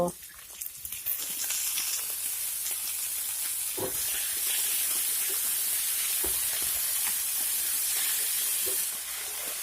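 Chopped Malabar spinach seeds frying with potatoes in a pan give a steady, moderately loud sizzling hiss with a few brief crackles and stirring taps, heard alone.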